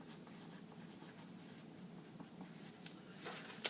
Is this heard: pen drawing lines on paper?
yes